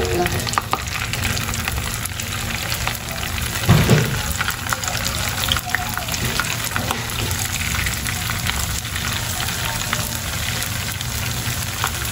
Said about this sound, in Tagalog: at nagpainit na po tayo ng mantika. Lalagay na natin itong ating mga fishball.